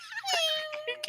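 A person voices a drawn-out imitation of a cat's meow, a rising and then falling whine about a second long, with other voices chattering close by.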